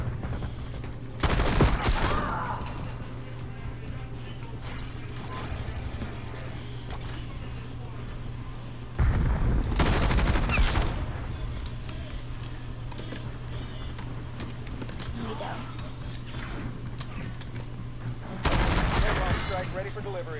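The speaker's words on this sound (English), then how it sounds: "Getting shot at." Bursts of video game gunfire break out three times while the player takes fire, short loud volleys over a steady low hum, with a voice in the background.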